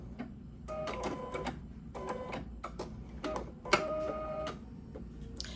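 An embroidery machine stitches a placement line for an embroidery sampler block, giving off several bursts of rapid mechanical whirring and tapping with short pauses between runs, close and steady.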